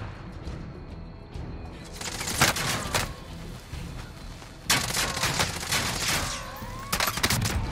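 Warzone video game gunfire starts with a low background rumble, then sharp, loud bursts of shots crack out in clusters at intervals, some close and punchy, others trailing off.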